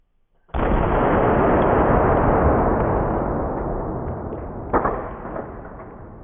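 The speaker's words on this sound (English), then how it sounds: "Let's see how the old Hi-Point handles some birdshot." A single loud blast from a Hi-Point pistol firing birdshot, followed by a long roaring decay, with a second fainter impact thump a few seconds later.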